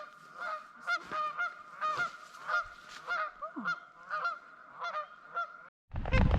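Canada geese honk at a lake, a string of loud, clear, rhythmic two-note honks close by, about a dozen in six seconds, then a brief gap and a burst of wind noise.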